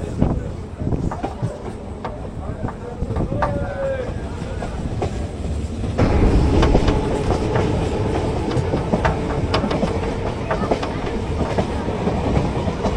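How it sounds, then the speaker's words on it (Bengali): A local train on the 108-kilometre run from Kolkata rolls into Namkhana station, a loud, close rumble with rhythmic clickety-clack of wheels over rail joints that swells midway as it pulls in. "ফাইনালি আমাদের ট্রেন কিন্তু 108 কিলোমিটার ডিস্টেন্স কভার করে নামখানাতে এসে পৌঁছালো"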